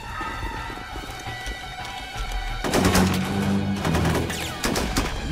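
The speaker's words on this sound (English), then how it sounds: "Heavy fire over here, Sergeant." Heavy gunfire in the 2004 tactical squad game Full Spectrum Warrior, with a steady background of distant shooting that turns into louder, closer bursts of rapid fire over the second half, with faint voices mixed in.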